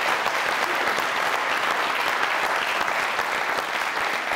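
A studio audience on a comedy talk show breaks into dense, sustained applause, many hands clapping evenly at full volume with no pauses and no voices standing out.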